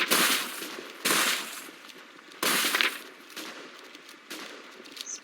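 Five heavy Mosin-Nagant rifle shots ring out in the Western shooter game Westbound, spaced about a second apart, each a loud crack with a fading echo.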